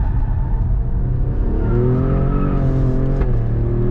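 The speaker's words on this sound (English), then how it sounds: "I'm getting more wheel spin off the corners than I would think" A 2024 Alfa Romeo Stelvio Quadrifoglio performance SUV accelerates hard out of a corner, its engine note rising steadily and loudly while the tires spin and squeal briefly against the pavement, with stability control still partly active.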